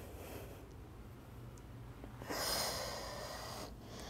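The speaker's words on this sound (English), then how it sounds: "Breathe in." A single audible inhale during a mat Pilates exercise, a soft breath rising briefly over low steady room noise, quiet and close.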